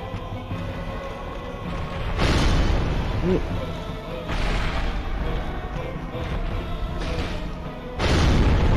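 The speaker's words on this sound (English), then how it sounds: "Whoa! Explosion!" A boss-fight explosion in Dark Souls Remastered, against the Demon Firesage in the Demon Ruins: loud booming bursts land at about two, four and eight seconds over rumbling game noise.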